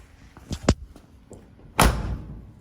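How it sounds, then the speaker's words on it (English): An interior door slams shut in a house where cheap door trim is being fitted, one loud close thump after a couple of softer knocks and bumps, with nothing else audible. "Let's shut the door."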